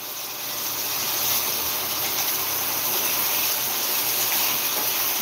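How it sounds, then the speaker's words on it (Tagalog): Water runs steadily from a kitchen tap as tinola is being cooked. The stream is a constant gushing hiss, close and even throughout, with no voices. "Dito na ako kuha ng tubig"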